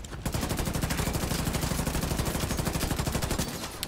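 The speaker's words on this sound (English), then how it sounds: "Shoot the tanks on the big guy's back" Rapid automatic gunfire in The Division 2: Warlords of New York, a dense, continuous burst of loud shots with a fast, steady rhythm lasting nearly four seconds, close and alone.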